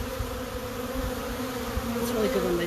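Honey bees buzz around their hive in a continuous, dense hum of wings. Individual bees flit close by now and then, swelling and fading over the steady drone.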